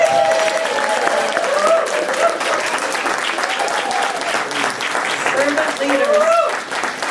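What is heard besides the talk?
audience applauding and cheering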